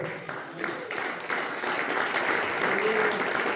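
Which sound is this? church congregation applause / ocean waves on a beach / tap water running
church congregation applause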